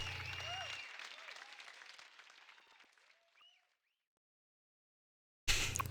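A crowd bursts into applause, a dense patter of clapping that fades out gradually over a few seconds into silence before another burst of clapping cuts in loudly at the end.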